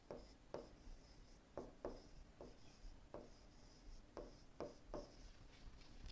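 Pen writing by hand on paper, a faint scratching run of short strokes broken by sharper taps, close and quiet, with no voice over it.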